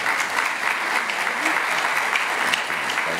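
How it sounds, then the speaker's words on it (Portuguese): Sustained audience applause at a constitutional law congress lecture, a dense, even patter of many hands clapping continuously at moderate distance with no speech over it. "O juízo do público por meio de palmas."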